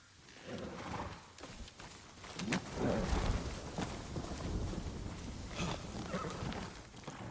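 Hooves of a horse clip-clop at a walking pace in the video game Ghost of Tsushima, mixed with soft wind noise. They sound moderately close and no one speaks.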